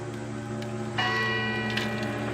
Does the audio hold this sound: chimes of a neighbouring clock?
yes